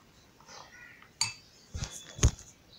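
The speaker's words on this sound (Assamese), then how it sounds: "ভালদৰে মিক্স কৰি" Fish pakora batter is mixed in a bowl with a utensil, giving a few close clinks and scrapes against the bowl after a quiet start.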